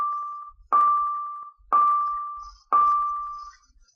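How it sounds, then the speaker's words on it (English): A bell dings three times at regular intervals, each strike ringing out and slowly fading before the next. "Sorry about the bell"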